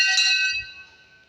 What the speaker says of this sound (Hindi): चलो घंटी बजा के अंदर प्रवेश करै छी।